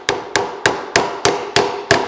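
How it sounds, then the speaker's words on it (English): A hammer drives a chisel into a heavily varnished generator part, seven sharp metallic strikes at an even, quick rhythm, loud and close. "So I'm just going to take a chisel"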